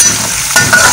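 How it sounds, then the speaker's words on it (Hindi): Chopped ginger frying in hot oil in a pan gives a loud, continuous close sizzle with a brief stirring scrape partway through. "अब मैं इसके अंदर ये कटी हुई अदरक डाल रही हूँ। बस ये हल्का सा मैं इसको यहाँ फ्राई करूँगी"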